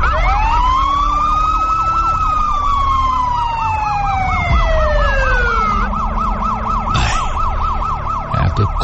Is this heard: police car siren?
yes